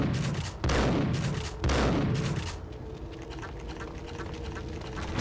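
Two heavy gunshot bursts in Max Payne ring out loud and close, each with a booming tail, followed by quieter rumbling and low background sound.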